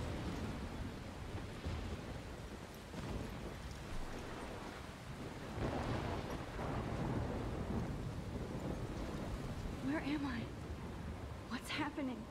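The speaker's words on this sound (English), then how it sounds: "I'm trapped in a storm?" Steady rain and wind roar through a thunderstorm in the video game Life Is Strange, with low rumbles of thunder building midway and a couple of sharp crackles near the end; a voice mutters faintly underneath.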